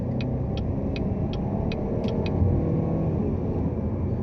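A 2016 Chevy Malibu 2.0T Premier accelerating at about three-quarter throttle, heard as a steady low engine rumble holding gear from inside the car, with a series of faint regular clicks over it.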